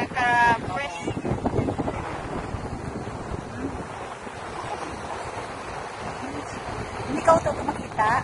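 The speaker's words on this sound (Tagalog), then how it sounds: "Mahangin sa labas. Talagang mahangin." Strong wind blows outside at a beach resort, buffeting the microphone in a steady roar with gusts, while a voice talks briefly near the start.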